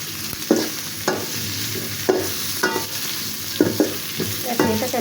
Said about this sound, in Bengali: এখন এটাকে আমি হালকা একটু ভেজে নিচ্ছি।